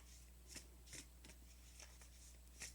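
Thick-cardstock oracle deck being shuffled close up, a series of soft, brisk riffles spaced unevenly over a steady low hum, with no voices.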